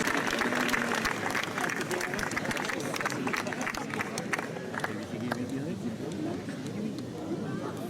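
A crowd applauds at a Basque strength event, with dense continuous clapping over murmuring voices that eases slightly toward the end.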